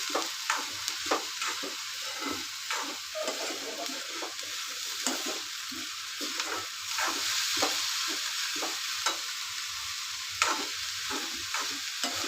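Onion fries in a pan until pink, a continuous close sizzle broken by repeated spoon stirring strokes at a quick, uneven rhythm, with no talking.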